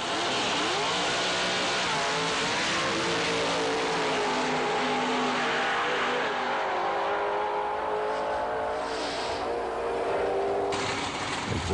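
A Camaro racing at a drag strip on Long Island under darkening skies, its engine roaring steadily and loudly throughout, with a harsh broadband rush and no voices.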